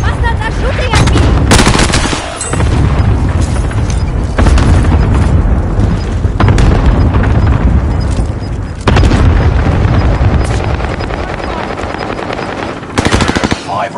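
Loud, rapid automatic gunfire rattles in long sustained bursts with short gaps, punctuated by heavy booms, close and dominating throughout.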